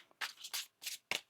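Four quick riffling bursts of tarot cards being shuffled, crisp and close, separated by brief pauses.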